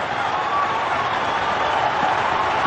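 A cricket crowd at Kingsmead in Durban roars and applauds, a dense continuous wash of cheering and clapping from a large stadium audience, loud and sustained.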